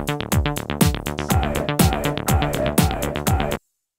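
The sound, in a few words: Casiotone CT-S10 keyboard drum set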